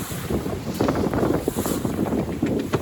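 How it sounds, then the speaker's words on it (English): Strong wind at sea during solo night sailing in a small trailer sailer buffets the microphone. It blows in gusts over the wash of waves and creaking boat sounds, with no talk. "The wind has picked up as well."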